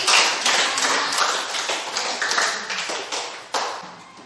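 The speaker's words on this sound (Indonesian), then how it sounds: "Mari kita memberikan tepuk tangan untuk semua jawaban dari" Children in a classroom clap together in a loose burst of hand claps, individual sharp claps standing out in an uneven rhythm that thins and trails off near the end.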